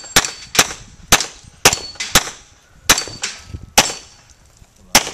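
A 9mm pistol fired at a shooting range: about nine sharp, loud, close gunshots in an uneven rhythm, each cracking out with a brief echoing tail.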